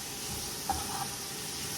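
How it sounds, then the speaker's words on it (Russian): Bell pepper fries in a pan for soup, giving a soft, steady sizzling hiss with one faint pop, quiet and close. "Отправляю болгарский перец в сковородочку."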